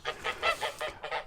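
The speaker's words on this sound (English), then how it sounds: "we have some ducks here, some noisy ones." Noisy ducks outside a rustic village home in Portugal give a rapid run of six harsh, honking quacks, loud and close, with no talking.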